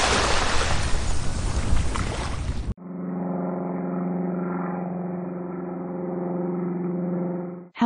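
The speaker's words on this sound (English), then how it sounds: "Amphibious plane." Rushing wind and water noise, then an amphibious plane's engine drones steadily with a strong tonal hum, close and loud.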